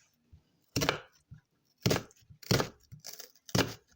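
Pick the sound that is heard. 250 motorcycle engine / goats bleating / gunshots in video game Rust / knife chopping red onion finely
knife chopping red onion finely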